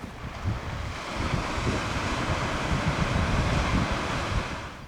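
Surf washes continuously onto the beach at Oxwich Bay in South Wales, a broad roar of breaking waves mixed with wind buffeting the microphone on a pleasantly warm morning with a light breeze.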